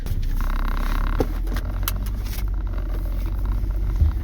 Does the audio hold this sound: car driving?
yes